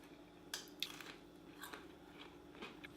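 Crunchy fried chicken being bitten and chewed, a few crisp crackling bites close up, with no talking.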